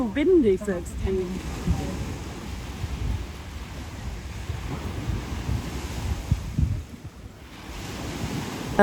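Sea waves wash steadily onto Bolivar beach in Athens, with wind buffeting the microphone throughout and a brief voice-like sound near the start.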